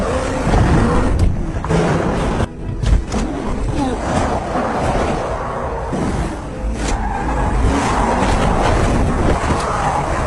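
A car in the zombie film Peninsula drives fast and skids, with tire squeal and loud engine roar under wind-like rushing noise, continuous and close throughout.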